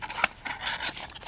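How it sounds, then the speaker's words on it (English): Fingernail creasing a sheet of paper for a doll-size armoire, a soft close rasping rub in several short strokes with one sharper scrape near the start, fairly quiet and without speech. "just crease it with your fingernail or your finger to get that line so you know where to cut"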